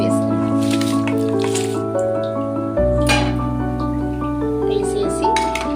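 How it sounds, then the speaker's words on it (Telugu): Rice tipped into boiling water with mint and coriander in a pot, a wet squishing splash and some dripping over steady music in the background. "ఇప్పుడు మనం ఇందులో రైస్ వేసుకుందాం."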